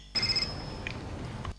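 A telephone ring sounds at moderate level: a brief tonal trill near the start, then a fainter second burst, over steady background noise with no talk.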